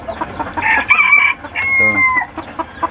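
Several labuyo roosters crow in overlapping calls, loud and close, with scattered clucking and chirps around them.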